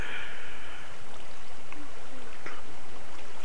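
Steady broadband rush of a waterfall in the Minecraft video game, loud and continuous throughout, with a few faint clicks and brief tonal blips from game activity layered on top.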